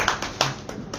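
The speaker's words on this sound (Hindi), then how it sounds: "आप लोग ताली तो एक बार मार दीजिए" Scattered hand claps from a crowd at a political rally in India, a few loose, uneven claps over about a second amid background murmur.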